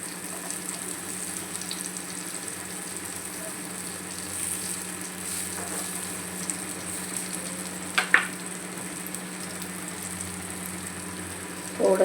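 Maharashtrian vangi masala, an eggplant masala, fries in oil in a pan with a steady, moderate sizzle, a faint hum underneath, a couple of light utensil taps and a louder clatter at the close.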